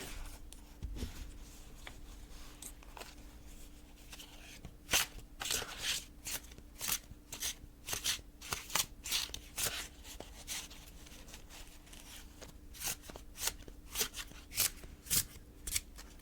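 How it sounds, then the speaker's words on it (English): Tarot cards being shuffled repeatedly, crisp riffling bursts and soft slaps in an irregular rhythm, close and fairly quiet, with no talking. "I kind of like the way these sound when they're shuffled."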